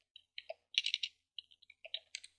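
Quiet clicking keystrokes on a computer keyboard typing into a Linux terminal, a quick irregular run of taps with a short burst of faster strokes in the middle.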